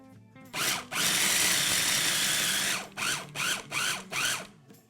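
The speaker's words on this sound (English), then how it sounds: "And then we're gonna grind and pulse it till it breaks down a bit more." A food processor grinds pesto made with olive oil in one loud, continuous whirring run of about two seconds, followed by four short, even bursts of pulsing.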